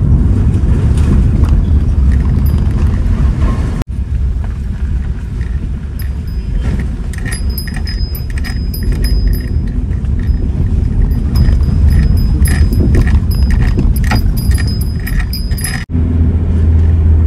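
A car drives along the road from Kolkata toward Purulia, heard from inside as a constant low road rumble and wind rush, with light rattling over it and short dips near four and sixteen seconds.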